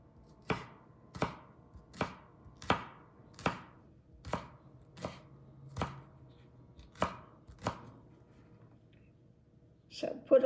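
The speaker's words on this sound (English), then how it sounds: "I'm going to slice up some green onion to put in there as well" Green onion sliced with a knife on a cutting board: about a dozen crisp, evenly spaced knocks at a relaxed pace, close and clear, with a quick cluster of chops at the end.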